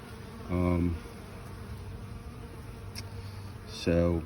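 Honey bees buzz near the entrance of a hive, with two loud, close buzzing passes as individual bees fly by, over a faint steady background hum of the colony.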